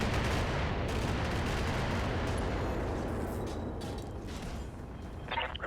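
Weapons fire and heavy impacts from mechs in the Battletech video game, a continuous loud barrage of blasts and rumbling with no talk over it.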